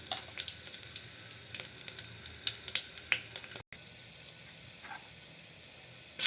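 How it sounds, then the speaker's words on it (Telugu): Cumin seeds for a mirchi dal tempering sizzle in hot oil, giving quiet, scattered crackles and pops that thin into a soft hiss. The sizzle is close but faint. "ఆయిల్ అనేది బాగా వేడైన తర్వాత ఇప్పుడు పోపు అనేది వేసుకుందాం."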